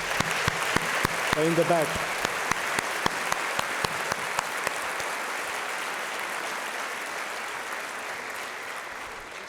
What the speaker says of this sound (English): Please give them a well-deserved round of applause for what they have done for you.